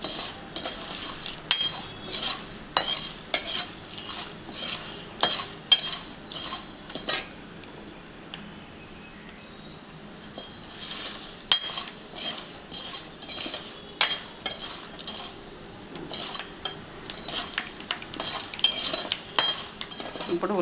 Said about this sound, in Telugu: వంకాయలు వేయించి పక్కన పెట్టుకోవాలి.